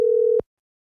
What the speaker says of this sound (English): Okay, it's ringing.